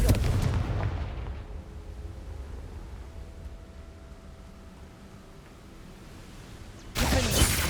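A Confringo spell blast in the Hogwarts Legacy video game lands as a loud booming burst that decays into a long, fading rumble, with a second sharp blast striking at the end.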